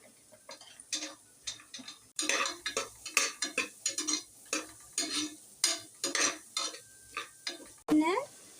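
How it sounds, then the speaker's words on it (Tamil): A utensil repeatedly scrapes and clatters around a metal pot while stirring chopped onions, in steady irregular strokes with a soft sizzle underneath, close and fairly loud. "பின்னர் நறுக்கிய வெங்காயத்தை சேர்த்து கிளறணும்"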